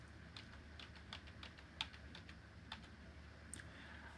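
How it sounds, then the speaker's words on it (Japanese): Computer keyboard keys clicking at a quiet desk while editing in Studio One 7 music software, a sparse run of light taps with one slightly sharper press standing out, no voices. "これをキーボードの D キーを押して複製をします。"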